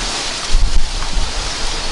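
Wind gusts buffeting the microphone outdoors during airgun shooting, in low rumbling gusts, swelling in the middle and easing off, over a constant airy hiss.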